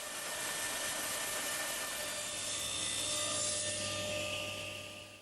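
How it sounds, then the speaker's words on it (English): A table saw in a woodshop cuts through wood with a steady, close whine and a rough rasp of the blade that runs continuously and eases off near the end, with no talk. "and I'll make this cut at the table saw."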